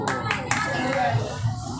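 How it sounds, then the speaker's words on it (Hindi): Hands clapping along at a Hindi devotional bhajan gathering, a rhythmic patter of claps under a voice and music with a sustained tone running through. "इस समिति के लिए जोरदार तालियां हो"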